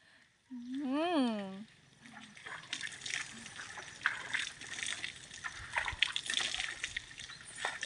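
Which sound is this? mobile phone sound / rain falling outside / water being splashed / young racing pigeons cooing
water being splashed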